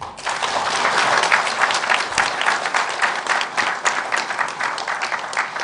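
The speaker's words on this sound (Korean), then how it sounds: "박수로 맞아주시기 바랍니다" Warm, sustained audience applause at a televised political debate forum welcoming the invited guest, dense and loud clapping from a full hall without pause.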